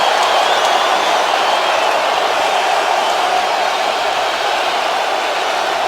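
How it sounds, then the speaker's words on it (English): Outdoor Winter Classic hockey crowd at a Toronto Maple Leafs versus Detroit Red Wings game reacting to a Leafs goal, a loud, dense, steady roar of many voices with no distinct peaks. "And here's where you get a great example of the divided crowd."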